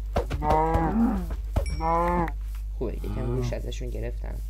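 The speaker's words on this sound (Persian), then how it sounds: "اینا گاون." Cows moo in a village in a video game, several long harmonic calls in a row, loud and close, with a voice talking between them.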